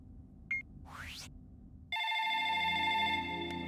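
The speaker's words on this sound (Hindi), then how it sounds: "Phone is ringing." A telephone rings loudly with a steady electronic warble that holds from midway to the end, preceded by a brief chirp and a quick rising swoosh over low background hum.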